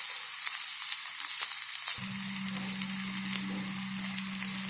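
Oil with mustard seeds and cumin sizzles and crackles in a pan, then a loud steady frying hiss with a low hum begins as onions are dropped in, continuing without talk.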